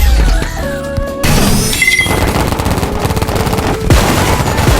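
Paintball guns firing in a paintball video game, loud bursts of rapid shots with crashes and splats over busy game sound effects and music.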